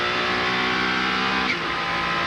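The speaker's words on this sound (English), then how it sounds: "I didn't hear those revs drop much through the second part of that chicane as Terry Boutsen takes it around." A race car engine at the 1998 Rolex 24 at Daytona holds loud, high revs through a chicane. The strained harmonic whine stays sustained with little drop throughout.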